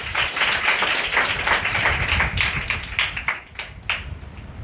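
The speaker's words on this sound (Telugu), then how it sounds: "ఒకసారి చప్పట్లు కొడతారా?" Church congregation clapping hands together, a dense, steady burst of applause that thins into scattered individual claps near the end.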